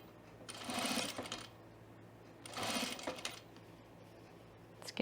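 A sewing machine stitches fabric in two quick bursts of rapid, whirring needle strokes, close and moderately loud, separated by quiet pauses.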